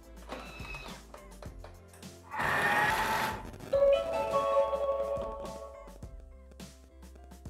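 Thermomix TM6-style food processor blending tuna mousse at speed 4, a steady mechanical whir with a louder churning surge midway, close and alone.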